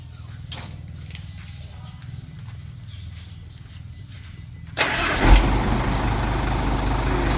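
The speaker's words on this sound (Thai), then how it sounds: "เสียงเครื่องเนาะหนักแน่นสไตล์ฮีโน่นะคะ" A Hino Mega JO7C diesel truck engine idles with a low, steady rumble, then a louder burst of mechanical noise kicks in and continues.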